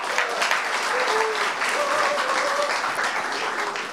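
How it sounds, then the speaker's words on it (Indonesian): A stand-up comedy audience breaks into steady, dense applause that carries on for several seconds, filling the room with a full wash of clapping. "Tepuk tangan buat kamu."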